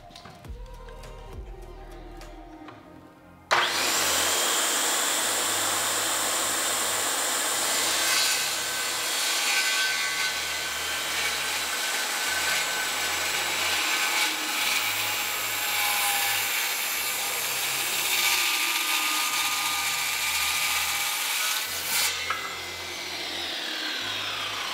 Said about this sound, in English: we're going to have to lift the guard up because we are doing a mitre cut